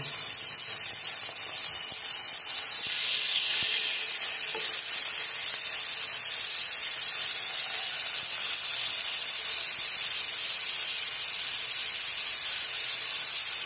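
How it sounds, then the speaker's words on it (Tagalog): Constant bright sizzling and hissing of marinated beef frying in a hot pan, steady throughout with no talking. "Prito ko yung beef."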